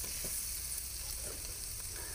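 A tadka of desi ghee for saag sizzles and crackles steadily in a pan, a continuous close frying hiss with small pops and no talking.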